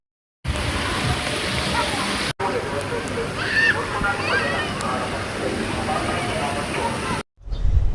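Water splashing and sloshing in an indoor pool at Aqua Ocean Park, a steady broadband wash running near and continuous, with faint voices in the background and a brief break partway through.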